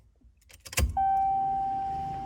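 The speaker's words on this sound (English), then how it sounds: "Okay, we turned the key on." In a Buick Grand National, a key clicks and jangles, then the ignition turns on with a sharp thunk, followed by a steady electronic tone and hum that holds to the end.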